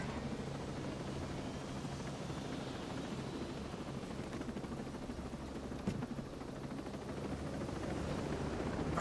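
A helicopter in the video game Ghost Recon Breakpoint drones on with a dense, steady rotor roar that holds even throughout. There is no talking.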